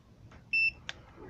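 A Kejie KJ209 clamp meter's continuity beeper gives a single short, high-pitched electronic beep against a quiet background.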